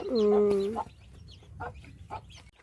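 A chicken clucks loudly with a drawn-out, harmonic call, followed by a few softer, scattered clucks nearby.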